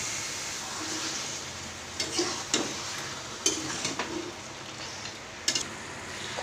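Chicken is stirred into fried masala for biryani, with a low sizzle underneath and several distinct scraping, clattering stirring strokes against the pot at irregular intervals.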